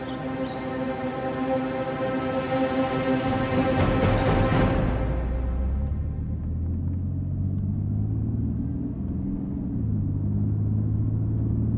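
A car being driven fast rumbles loudly and continuously, its engine note shifting and dropping partway through as the sustained roar carries on with no voices.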